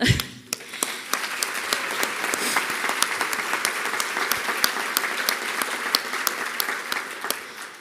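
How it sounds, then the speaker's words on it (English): A room full of colleagues at an awards ceremony claps together in sustained applause lasting several seconds, with a few distinct loud claps standing out over a steady crowd of hands. "Let's clap for everyone in the room."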